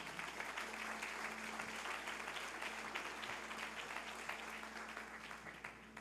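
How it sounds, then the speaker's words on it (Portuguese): A church congregation applauds steadily throughout, a dense, sustained wash of clapping that stays even in loudness and is not interrupted by speech. "Pode aplaudir ao Senhor."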